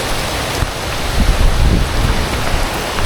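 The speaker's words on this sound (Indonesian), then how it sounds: "Hujan." Heavy rain pouring outdoors during a fishing trip, a loud steady hiss with gusty low rumbles, no talking over it.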